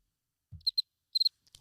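A crickets chirping sound effect, a few short, sharp, high chirps in two quick groups against silence, close and clear, with no talking.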